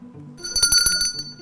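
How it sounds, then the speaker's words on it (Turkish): One bright ring of a blue desk bell on a quiz show that shimmers briefly and fades, heard over a low steady hum. "mavi masa zili çaldı"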